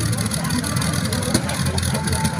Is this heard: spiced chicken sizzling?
no